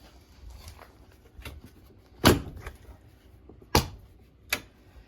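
The door of a Can-Am off-road vehicle is worked open and shut, giving a few sharp latching clunks separated by quieter rattles and handling sounds, close by.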